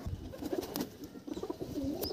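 Pigeons of a fancy Dhille breed cooing in a loft, several soft throaty coos repeating close by, with light rustling between calls.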